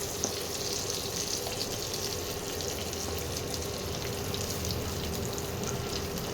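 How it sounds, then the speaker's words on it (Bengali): Jackfruit pieces frying in oil, a steady, close hiss that runs unbroken throughout with no voices over it. "তো বন্ধুরা, লাল লাল করে ভাজা হয়ে গেছে এঁচোড়গুলো"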